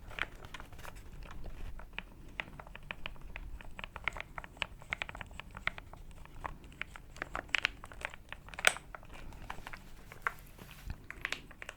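Electrical tape handled close up for ASMR, a dense run of soft crinkling, sticky peeling and tapping clicks, quiet and intimate with irregular sharper pops, no voice.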